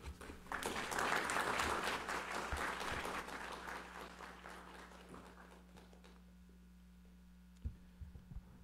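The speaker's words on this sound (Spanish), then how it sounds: "Lo despedimos con un fuerte aplauso, por favor." Audience applause at a panel event on the role of media in defending rights, loud and dense at first, then thinning out over several seconds to a quiet hum with a few scattered claps.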